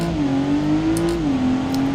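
A worn-out old car in a BeamNG time trial running 1.5 bar of turbo boost, its engine holding a steady strained drone that dips slightly in pitch, loud and alone.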